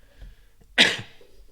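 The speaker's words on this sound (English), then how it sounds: "I still got a bit of a cough from this COVID." A single sharp adult cough, close and fairly loud, bursting out of a quiet room with faint background hum, from a person still recovering from COVID.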